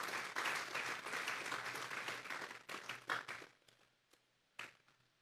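A church congregation applauds with dense, steady clapping that thins out into a few scattered claps before fading.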